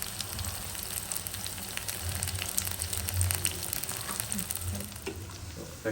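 Red chili, coriander and cumin tempering in hot oil sizzles and crackles steadily for several seconds, a dense continuous frying hiss with scattered pops and no talking.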